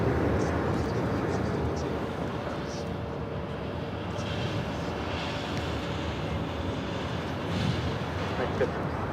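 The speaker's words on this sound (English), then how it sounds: "This is Aeromexico, the Dreamliner coming in from Mexico City, touching down at 25 left." A JetBlue Airbus A320 jet at Raleigh-Durham airport, heard as a steady low engine rumble with rising swells under frequent nearby talk.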